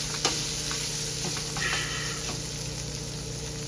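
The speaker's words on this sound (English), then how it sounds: "Now, my bacon is getting quite fried up." Bacon fries in a pan with a steady, moderate sizzle, broken by faint ticks and pops as the fat spits, over a low constant hum in the background.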